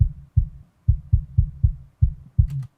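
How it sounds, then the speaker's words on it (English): Deep, muffled kick drum thumps repeat in a steady groove, eight hits with everything above 150 Hz cut away by a steep low-pass filter, ending with a faint bright tick. "I can pretty much only hear the kick drum at that point"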